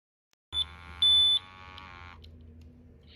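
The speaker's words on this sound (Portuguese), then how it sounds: "o alarme sonoro já foi ativado" A gas detector sounds its audible alarm during a response test: a sharp electronic beep, then a longer loud tone that cuts off, followed by quieter steady equipment hum.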